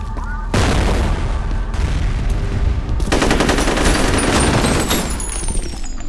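A grenade blows up in the first-person shooter FEAR, a sudden loud blast breaking in, followed by a second burst and a crackling spray of gunfire and debris that keeps going to the end.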